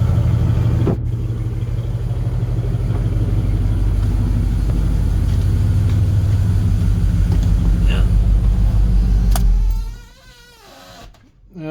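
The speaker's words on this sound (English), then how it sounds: "I love the sound of this truck. Those pipes always sounded good with this exhaust." A 1983 Chevy square-body truck's engine rumbles at a steady idle through its exhaust pipes, loud and close for about ten seconds before dropping away, with some speech near the end.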